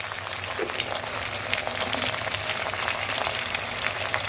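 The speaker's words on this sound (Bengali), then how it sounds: "দিয়ে এবার মশলাটা কষাবো" Spice masala sizzles steadily in a hot pan, a dense continuous frying hiss with faint stirring, close and fairly loud with no voices.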